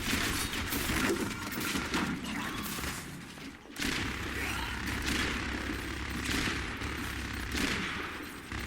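Rapid gunfire in the Overwatch video game aimed at an enemy turret, dense continuous bursts of shots with a brief pause partway, loud and close, with speech faintly underneath.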